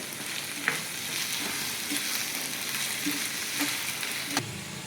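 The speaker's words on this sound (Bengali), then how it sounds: "এবার সব কিছু ভালোভাবে একসাথে একটুখানি কষিয়ে নেব" Spices and paneer sauté in a pan, giving an even, steady sizzle throughout with a few soft clicks and scrapes from stirring, close up and without voices.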